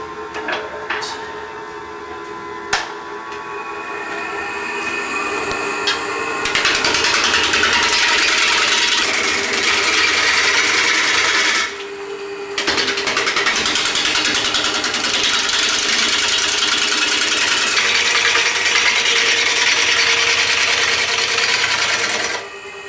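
A wood lathe turning a bowl blank with a knot inclusion, a steady mechanical hum with rough, rattling cutting noise as the tool knocks off bumps, loud and close for long stretches with a brief pause midway.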